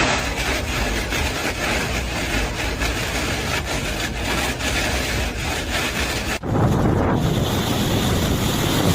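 Typhoon Danis makes landfall on the Zhejiang coast of China, with loud roaring wind buffeting the microphone over crashing waves. A dense, continuous rush shifts in tone near the end, with no voices.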